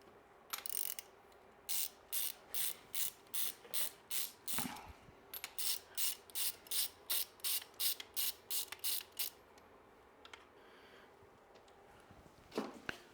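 Ratchet wrench clicking in quick rhythmic bursts while removing and installing locking nuts during an engine rebuild in a garage, close and loud, with pauses between runs of strokes.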